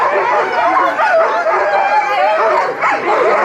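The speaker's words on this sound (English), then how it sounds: "They are really excited and ready to go. These are Alaskan Huskies." Alaskan Husky sled dogs near Denali bark, yip and whine excitedly in a loud, dense, continuous chorus close by, with overlapping voices and no pauses.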